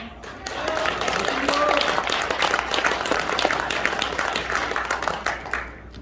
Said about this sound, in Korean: 여기에 박수를 주면 안 됩니다